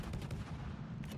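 Main battery guns on a warship in World of Warships thunder in a quick series of deep, booming shots. The low rumble rolls on continuously beneath the blasts.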